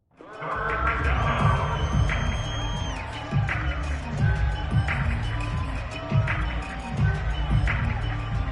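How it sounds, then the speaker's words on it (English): Stadium crowd noise from a Madden football game between the Buccaneers and Falcons, a steady loud roar with rising cheers and repeated bursts building ahead of a big third down. "The crowd getting into it as we come up on a big 3rd down."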